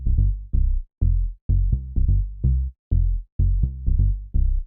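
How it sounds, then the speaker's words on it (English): Deep Serum-preset synthesizer bass notes play a rhythmic, plucky tech house line of short repeated hits, loud and dry with no other sounds. "So we have this bass line, which is simply a Serum preset"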